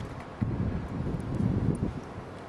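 Steady low wind buffeting and rumbling against the microphone outdoors during a woodgas stove boil test, gusting stronger in the middle, with no voices.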